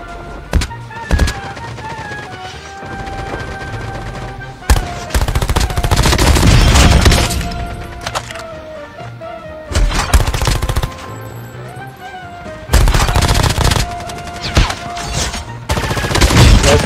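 Gunfire in a mobile battle-royale shooter game: loud bursts of automatic fire come in several clusters with brief gaps between them, with a steady tonal game hum running underneath and no talk.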